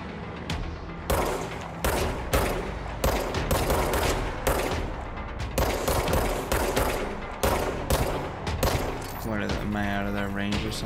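Enemies in the video game Control fire weapons in repeated rapid bursts of gunfire, loud and sharp, separated by brief pauses, with a lower droning tone near the end.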